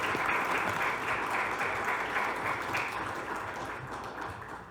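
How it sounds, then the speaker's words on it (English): An audience applauds to welcome a speaker at a local history talk, a steady wash of clapping heard from a distance that gradually tapers off. "please would you give her a round of applause to welcome her"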